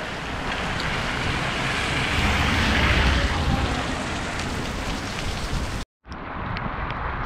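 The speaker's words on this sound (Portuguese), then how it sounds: "Sobe chuva, sobe sem parar." Steady heavy rain pours down in a dense, continuous hiss, cutting out for a moment near the end before resuming slightly quieter.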